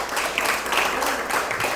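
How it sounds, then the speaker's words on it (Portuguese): A church congregation claps at a Sunday service: a brief burst of brisk, crowded applause filling the room at moderate volume, with no voices over it. "Mais uma forte salva de palmas ao Senhor"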